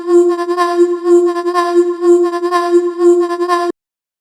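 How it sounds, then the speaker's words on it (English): A granular synth voice sample from the Carta sound design tool plays as a sustained, buzzy vocal-like tone with a steady low fundamental and pulsing upper harmonics, looping evenly for nearly four seconds before cutting off abruptly into silence. "what I have is a sample from Carta called Granular Voice"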